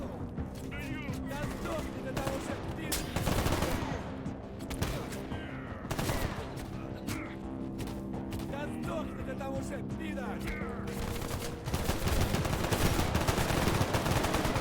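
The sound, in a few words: gunfire in the video game S.T.A.L.K.E.R. GAMMA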